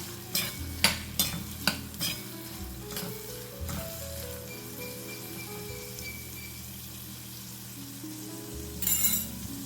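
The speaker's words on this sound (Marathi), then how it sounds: "आता हा कांदा आपण चांगला तेलावर परतून घेऊया" Finely chopped onions sauté in oil in a pan, with a steady sizzle and several sharp spoon scrapes and clinks in the first few seconds, then continued frying.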